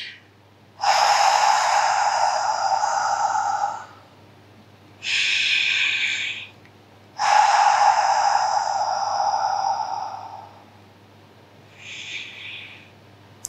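Deep breaths taken during a guided relaxation exercise in a singing masterclass, three long, loud airy breaths close to the microphone separated by pauses, followed by a brief softer exhale.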